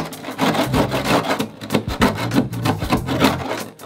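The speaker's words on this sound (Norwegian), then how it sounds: "Aller først så begynner vi bare med å skrape" Old paint and rust are scraped off the body of a former postal van, rhythmic rough rasping strokes repeating steadily at close range.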